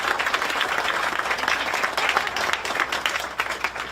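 An audience at a high school ribbon cutting ceremony applauds parents, giving steady, moderately loud clapping that continues throughout with no break and no voices over it.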